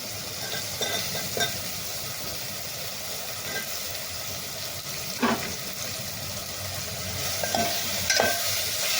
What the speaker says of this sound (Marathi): आता मी यात शेवगाच्या शेंगा टाकते आहे.